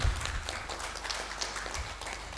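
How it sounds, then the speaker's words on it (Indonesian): An audience applauds to welcome Bapak Pramono at a talk in Indonesia, steady moderate clapping filling the room at a distance without letting up. "Sekali lagi boleh kasih tepuk tangan dulu dong untuk Bapak Pramono"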